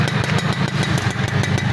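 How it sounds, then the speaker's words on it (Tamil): A motorcycle engine idles close by, its beat firm and even, with regular pulses that repeat all the way through. No one speaks. "வண்டியோட பீட்டை பாருங்கள்."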